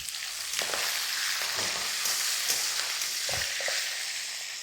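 Dried red chillies and curry leaves fry in hot oil for tomato chutney, a loud continuous close sizzle with a few soft stirring scrapes and no talk.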